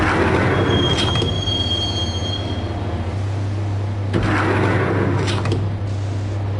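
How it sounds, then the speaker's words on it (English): Train ride in the video game Max Payne, a loud rolling rumble of rail cars with repeated high metallic wheel squeals and a steady low hum, no voices. "the train doors had already shut behind me, and I was in for the ride"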